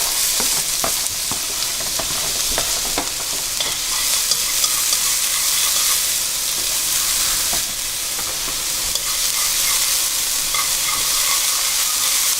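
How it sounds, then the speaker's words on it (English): Shallot and garlic frying in olive oil in a hot pan, a loud, continuous close sizzle with crackling bursts and the scrape of stirring throughout. "Now I'm going to add in my shallot and garlic."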